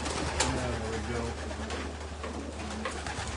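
Racing pigeons coo softly amid a steady wash of outdoor rumble, with murmuring voices faint in the background.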